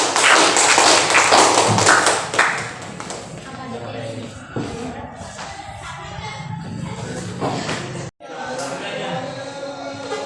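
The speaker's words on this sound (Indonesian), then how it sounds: "berikan dulu aplaus untuk kelompok 3" Classroom audience applauding for a presenting student group, a dense burst of clapping in the first seconds that thins into scattered taps and shuffling, with a sharp cut near the end.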